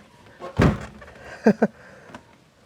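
A car door on a Mazda Miata NB2 thuds heavily once without closing, followed a moment later by two quick, lighter knocks, then quiet.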